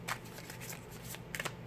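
Tarot cards are shuffled by hand in quick, soft riffling bursts, close and quiet, with a short second flurry near the end.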